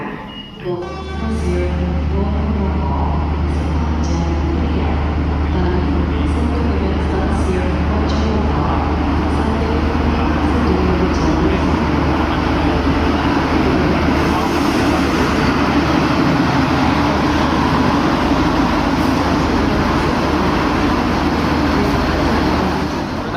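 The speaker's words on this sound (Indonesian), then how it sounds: "Jenggala sudah masuk jalur 1, ini kita langsung naik" A commuter train arriving at a station platform: a heavy, constant low rumble runs throughout, loud and close, with faint higher clatter above it.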